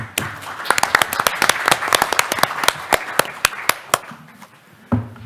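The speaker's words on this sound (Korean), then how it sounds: "큰 박수 부탁드리겠습니다" An audience applauds at a seminar and policy forum, a few seconds of dense, lively clapping that thins out and fades near the end.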